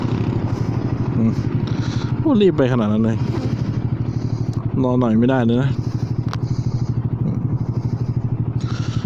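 A Honda Forza 300 motorcycle being ridden, its engine a steady close rumble with a rapid pulsing throb that continues throughout while someone talks over it.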